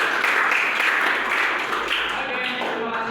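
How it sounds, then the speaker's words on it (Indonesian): A classroom of students claps together in a loud, continuous burst of applause during a lesson, the clapping steady and fading slightly toward the end. "Boleh tepuk tangan dulu dong."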